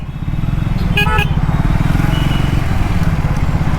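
Triumph Speed 400 motorcycle riding on Apollo tyres, a steady close engine drone throughout with a brief pair of horn-like tones near the start; no talk.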